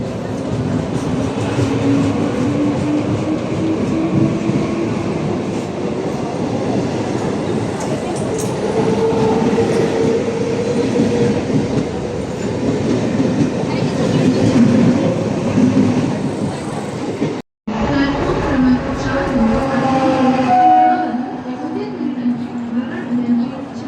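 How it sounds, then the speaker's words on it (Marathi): A 12-coach slow Mumbai local train bound for Shivaji Maharaj Terminus rumbles loudly and continuously from close by, with rhythmic wheel clatter, a brief cutout and a voice talking over the din. "शिवाजी महाराज टर्मिनस जाने वाली 12 डिब्बों की धीमी लोकल है।"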